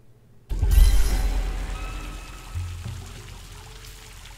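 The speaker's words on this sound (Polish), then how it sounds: "Uuu, jaka ładna fontanna." Water from a fountain and waterfall splashing in the video game Tandem: A Tale of Shadows, starting abruptly as a loud rushing pour that settles into a steady stream with a second surge partway through.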